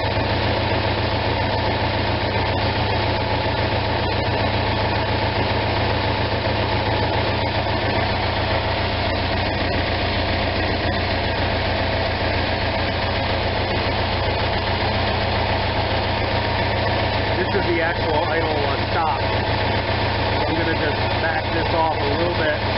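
An Onan RV generator engine idles in a steady, close, continuous drone with a constant vibrating hum that barely changes over more than twenty seconds.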